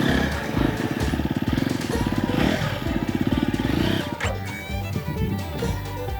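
A dirt bike engine revs in second gear while being ridden, its loud, close, pulsing throttle bursts rising and dropping and running continuously with some rattling clatter.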